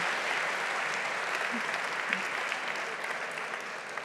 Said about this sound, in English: can I give him a round, big round of applause?